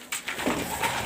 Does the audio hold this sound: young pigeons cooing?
yes